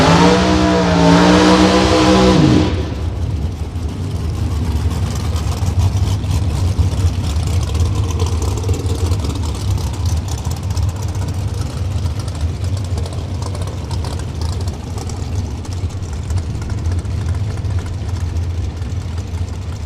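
Drag racing cars at a Las Vegas event, heard as a loud, steady engine roar that rises in pitch through a revving sweep at the start, then settles into a dense, continuous idle rumble.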